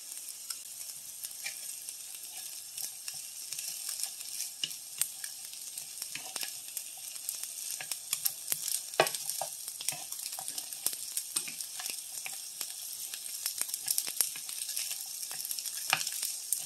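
Chicken sizzles in a pan, a soft, continuous crackle and spatter of frying that stays fairly quiet and even throughout, with scattered sharper pops.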